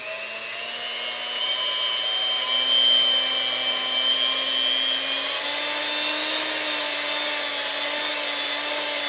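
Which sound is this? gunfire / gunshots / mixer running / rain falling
mixer running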